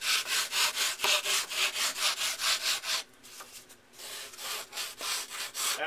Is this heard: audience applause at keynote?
no